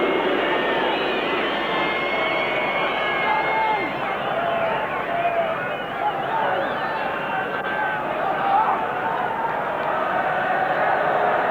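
A 50,000-strong football stadium crowd at a 1990 World Cup qualifier between Ireland and Spain roars and murmurs continuously, a dense, steady wash of distant cheering, with a commentator's voice over it.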